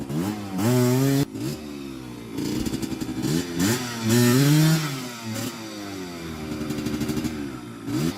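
Trail motorcycles revving hard while climbing uphill, engines rising and falling in pitch through several bursts of acceleration, with rattly clatter and brief drops between revs, loud and close.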